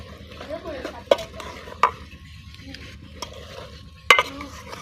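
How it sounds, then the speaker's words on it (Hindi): Brinjal curry with ghee stirred in a pot, a soft sizzle under repeated scraping and a few sharp metallic knocks of the spoon against the pot, close up with no talking. "अब जो इसको मैं कर रहा हूँ मिक्स"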